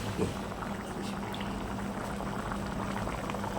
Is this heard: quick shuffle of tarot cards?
no